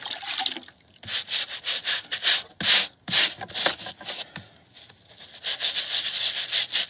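A car floor is scrubbed with a cleaning mixture in short, rough brushing strokes. The wet rubbing comes in uneven bursts, close and fairly loud, with brief pauses between.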